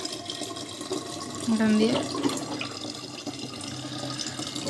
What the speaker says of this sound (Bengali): ওই জন্য একটু জলও ভরে নিলাম